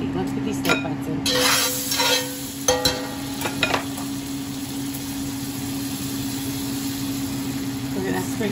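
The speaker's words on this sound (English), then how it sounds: "Let's get these steak bites in." Steak bites go into a hot pan and sear with a steady, even sizzle, with a few clinks and scrapes of utensils early on, and faint voices in the background.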